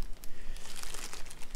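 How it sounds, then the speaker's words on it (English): Plastic bag crinkling and crunching as something is mixed inside it by hand, a close, continuous rustle with irregular bursts and no talk. "I like the plastic bag mixing method a lot."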